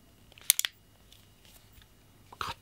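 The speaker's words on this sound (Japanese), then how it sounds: "ハンマーいきます。" The hammer of a Tanaka Works M1917 Hand Ejector model gun, a four-inch heavy-weight replica revolver, is cocked, giving a quick cluster of sharp metallic clicks followed later by another soft click, quiet and close.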